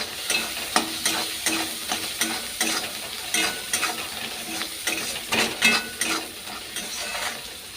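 Food frying and being stirred hard in a pan, with steady close sizzling and repeated scraping strokes of a spoon on the metal, plus the odd light clink and no talk.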